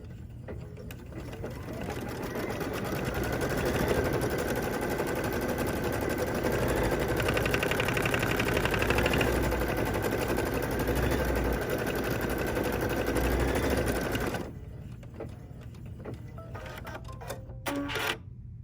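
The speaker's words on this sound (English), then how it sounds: "Now I'm going to stitch the placement stitch for the conversation bubble." An embroidery sewing machine stitches a placement outline for a conversation bubble on a Kimberbell mini pillow, a fast rapid-fire mechanical chatter running steadily for most of the time before stopping, followed by a few small clicks and handling noises.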